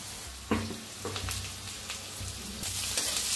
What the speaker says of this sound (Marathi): त्याच्यात आता हिरवी मिरची, लसूण कुटलेला, शेंगदाणे, ते बी असं भाजून घेऊया छान असं।